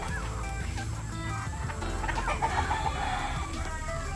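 Young gamecock stags at a game farm cluck and call in a noisy, steady chorus, with a short crowing burst midway, heard at moderate distance with no talk.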